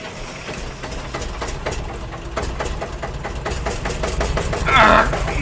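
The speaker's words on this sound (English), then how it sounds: "Boy, that's a loud engine." Loud engine running steadily in an animated train story, a low continuous rumble with a rhythmic pulsing beat, close and constant, with a brief brighter burst near the end.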